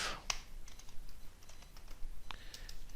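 Computer keyboard keys clicking in quick irregular bursts while a C program is written, close and fairly quiet, with short pauses between flurries of keystrokes.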